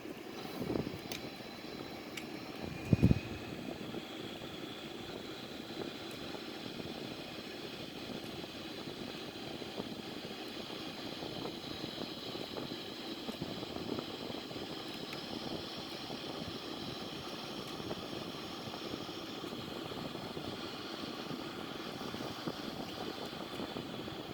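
A Sukhoi Su-30M2 in flight produces a steady, even engine drone that holds throughout, with one brief loud thump early on and no voices.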